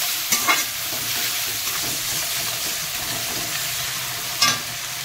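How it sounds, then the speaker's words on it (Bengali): Prawns frying in a hot pan with turmeric and salt, a loud continuous hissing sizzle broken by a couple of scraping stirs at the start and end, close and without speech. "একটু ভাজা ভাজা করে তারপর দিয়ে মশলা দেবো।"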